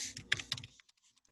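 Quick, uneven keystrokes on a computer keyboard while a finite-element model is being set up in Abaqus, clicking close and crisp for under a second before falling quiet apart from a few faint taps.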